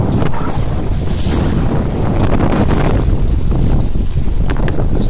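An Oz Goose sailboat sails on Taal Lake. Heavy wind buffets the microphone while water rushes and splashes against the hull, a loud and steady roar that lasts throughout, with no voices.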